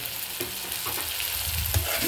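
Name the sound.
chopped coriander added to hot oil tempering, sizzling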